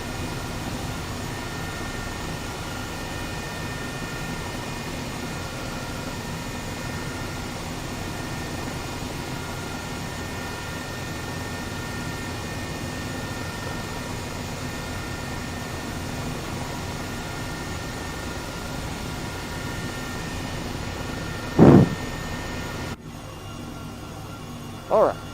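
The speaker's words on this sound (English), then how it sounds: "We'll take a nice another look at this helicopter." An H135 helicopter in Microsoft Flight Simulator, a steady, loud droning turbine and rotor whine holding evenly, with a couple of brief clicks near the end.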